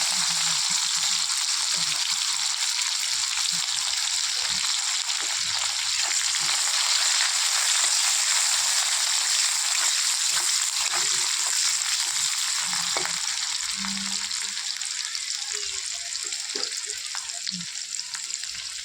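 Onions frying in hot oil in a pan with cumin and green chillies, for a potato chorchori. A steady, bright sizzle hisses throughout, with scattered faint low knocks beneath it.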